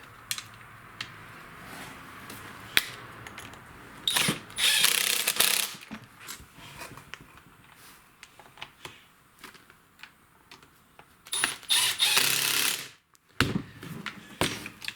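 Screws being started by hand into the housing of a STIHL FS56 string trimmer: close, dry ratcheting clicks and scratchy bursts come in irregular spurts between quiet pauses, with no talking.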